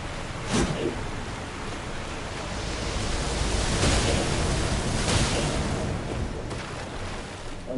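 Steady, broad rush of falling water from a waterfall in Elden Ring, a continuous dense roar with slight swells, and a voice speaking briefly over it.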